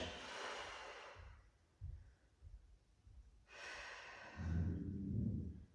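Two long, breathy exhales come up close during a beginner core-and-strength workout press, each a steady rush of air with a short pause between them.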